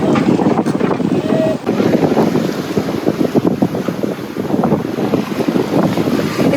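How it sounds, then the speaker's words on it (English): A sailboat running before the wind on big rolling ocean swells, with heavy gusting wind buffeting the microphone and water rushing and slapping against the hull, loud and continuous, with no talking. "Let's just see if this wind stays as it is and we can sail down there."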